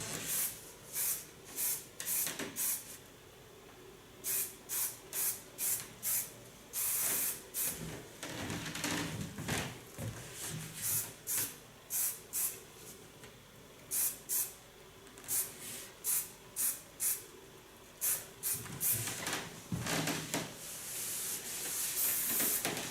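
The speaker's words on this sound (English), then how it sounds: "You take a solid hairspray to finish it off." Solid hairspray hisses onto styled platinum blonde bob hair in a long run of short, sharp bursts, some spaced and some in quick clusters. The sprays are close and loud against a quiet room.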